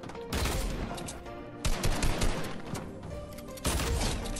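Rifle shots in a video game fire in rapid, dense bursts, loud and close, with short gaps between volleys and heavier thumps in the middle stretch.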